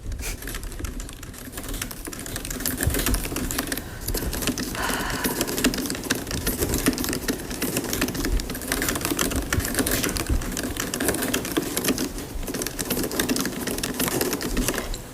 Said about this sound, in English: Test of the two keyboards. This is my old Mac. This is the new Mac.